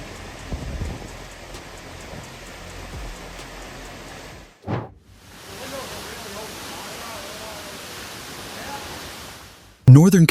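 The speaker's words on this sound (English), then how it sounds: "tropical storm winds and rain swept through neighborhoods" Tropical storm wind and rain sweep through a neighborhood, a steady hiss of downpour with a sudden gusting whoosh midway and a loud burst at the end.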